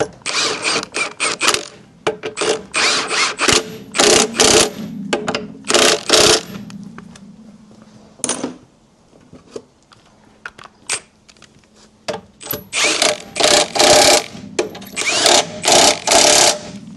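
Impact wrench driving stainless cross member bolts into the rusty rear cross member of a Land Rover Defender during a refurb, heard as loud, close, rattling bursts in two groups separated by a quieter pause.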